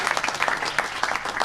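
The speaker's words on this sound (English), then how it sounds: "So big round of applause for them." An audience at a live event applauds the sponsors in a brief burst of close, scattered handclaps from a modest crowd.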